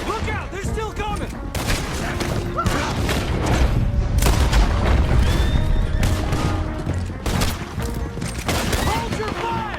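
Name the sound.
gunfire in the video game Red Dead Redemption 2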